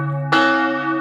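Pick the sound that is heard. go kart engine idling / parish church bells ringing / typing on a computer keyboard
parish church bells ringing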